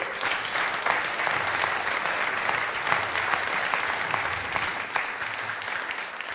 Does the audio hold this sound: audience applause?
yes